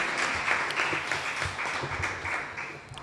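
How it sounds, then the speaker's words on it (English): An audience at an opening ceremony of a regional community resilience conference applauds, dense steady clapping throughout, moderately loud and without speech. "Let's give her another round of applause."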